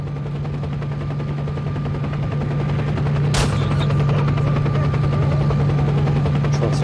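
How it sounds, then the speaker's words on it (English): A helicopter flies in the video game S.T.A.L.K.E.R.: Shadow of Chernobyl, a loud, steady rotor drone with a fast chopping pulse, joined by a sharp crack midway. "Is that a helicopter?"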